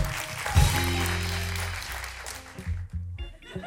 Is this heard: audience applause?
yes